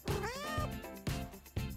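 A cat meows three or four times in quick succession, each call loud and close with a rising, drawn-out tone, heard alone with no talking.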